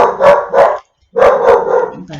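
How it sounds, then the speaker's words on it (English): A dog barks indoors in two bursts: a pair of quick barks, a short silence, then a longer run of barks, close and loud. "there goes the dog"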